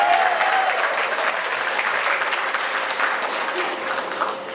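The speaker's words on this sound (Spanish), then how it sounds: "Un aplauso para ese." Congregation applauding during a sermon, a sustained burst of many hands clapping with a faint voice briefly audible at the start, tapering slightly toward the end.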